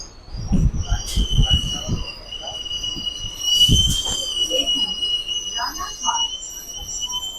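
A local train at Ranaghat Junction clatters and rumbles near the platform, its wheels squealing in long high tones, with a few brief voices around.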